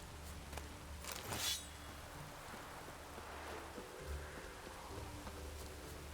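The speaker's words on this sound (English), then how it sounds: "Even the rain smells different here." Rain patters steadily across surfaces in The Witcher 3: Wild Hunt, a soft continuous hiss with a short brighter swish early on and faint game ambience beneath it.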